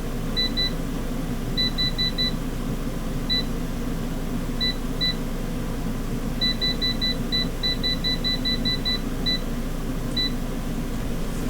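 An air fryer's control panel gives a series of short, high electronic beeps, some single and some in quick runs, as 30 minutes at 300 degrees is set, over a steady background hum.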